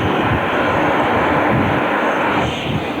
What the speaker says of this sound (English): Dave Harris coming across will pitch it up for the 4-point hesitation roll